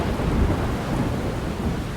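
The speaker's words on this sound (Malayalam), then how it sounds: "നല്ല ഇടിവെട്ടും മഴയാണ്" Thunder and rain in the video game Life is Strange, with a low continuous rumble of thunder under steady heavy rainfall, filling the whole moment without voices.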